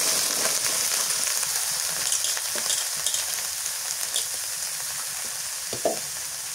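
Scallions (spring onion greens) frying in a pan give off a steady, close sizzle and crackle throughout, with a few louder pops and spatters standing out near the end.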